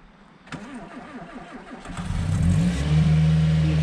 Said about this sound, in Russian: Все, завелась, сейчас прогревается машинка.